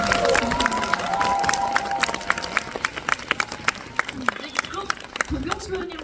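Audience at a special screening Q&A for the film The Moon applauds steadily, a mix of crowd clapping and murmur with scattered sharper claps, with a voice speaking over it near the start.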